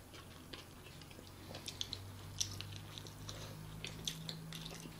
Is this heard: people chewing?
yes